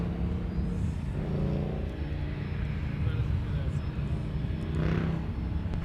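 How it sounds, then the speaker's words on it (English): A Delta Boeing 737-900 taxis slowly at Minneapolis airport, a steady low engine rumble and whine held throughout at moderate distance, with a voice talking over it. "Here comes another Delta aircraft. This is a 737-900. Taxiing out slowly"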